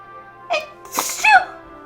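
A single short sneeze bursts out close and loud in a quiet room, preceded by a brief sharp intake of breath.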